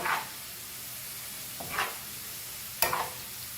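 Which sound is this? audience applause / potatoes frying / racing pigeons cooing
potatoes frying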